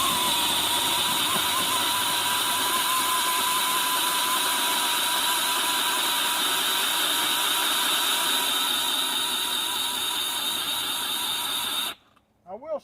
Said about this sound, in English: Now this is just an 18-volt ryobi pole saw.